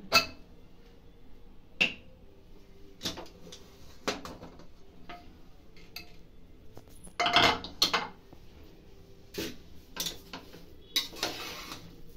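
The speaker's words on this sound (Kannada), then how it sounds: "ಕುಕ್ಕರ್ ತೆಗಿತಾ ಇದ್ದೀನಿ." Pressure cooker being opened after its whistles in a home kitchen while making jaggery rice: a series of sharp metallic clinks and clacks spaced across the moment, with a louder cluster of rattles midway, no talking.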